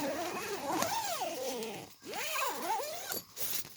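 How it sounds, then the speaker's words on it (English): A tent porch zipper is pulled in two long strokes, each a rasping, whining sweep that rises and falls in pitch, with a brief pause between them; close and fairly loud. "Then we come out and we zip up our porch."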